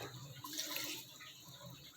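Water being poured into a cooking pot of karela gosht (bitter gourd and meat) with spices, a brief liquid splash and trickle close by, with no talk over it.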